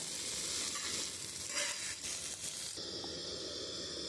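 Shrimp coated in salt and turmeric fry in hot oil, giving a steady dense hiss and crackle that stays close and constant throughout, with a slight change in tone near the end.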